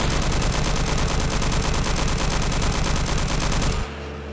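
Rapid automatic gunfire from the video game Duke Nukem Forever, a loud, dense burst of steady shots that cuts off abruptly near the end.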